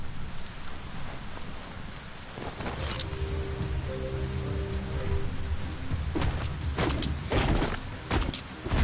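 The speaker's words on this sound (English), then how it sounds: "When it rains, it gets wet." Steady rain pattering on surfaces in the video game Biomutant, a dense continuous hiss with a few sharper drops and faint rumbles, no voices.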